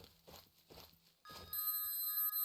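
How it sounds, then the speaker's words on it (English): An alarm goes off in the zombie survival game Cataclysm: Dark Days Ahead, a steady, ringing electronic tone that begins partway through and holds to the end, following a few soft, muffled thumps. "From the northeast, we hear an alarm go off."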